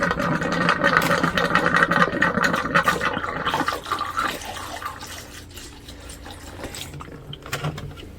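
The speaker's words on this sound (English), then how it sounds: "So the pump is on." A water pump running inside a van while water drains: a steady, close mechanical hum mixed with rushing, gurgling water that is louder at first and then tapers to a lighter trickle.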